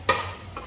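Onion hitting hot oil for a Maggi noodle tadka, giving a short, close hiss of sizzling with a stirring scrape, brief and loud in a quick burst.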